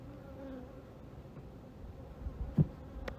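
Honeybees buzz softly around an open hive during an inspection where drone brood comb has been set on top, a steady low hum with a brief louder thump near the end.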